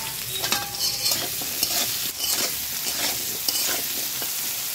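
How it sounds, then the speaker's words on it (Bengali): Potatoes fry in hot oil with salt and turmeric, giving a dense continuous sizzle close up, broken by frequent clattering stirs and scrapes of a utensil against the pan, with no talking. "আলুগুলো ভেজে নেব"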